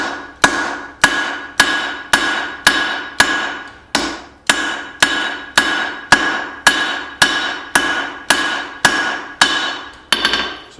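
A hammer strikes hot steel while forging and tapering a double-sided axe: about seventeen loud, ringing blows land at an even, steady rhythm, close by and alone.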